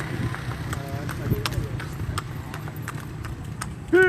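Horse hooves clip-clop in a steady, even rhythm on a road near Mabitac, Laguna, heard from a passing bicycle over constant road noise, with a brief tonal call at the end.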